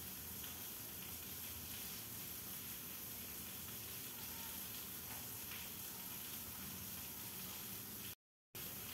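Ghee with bay leaf and five-spice sizzles in a wok, a faint, steady hiss running unbroken with no voices over it.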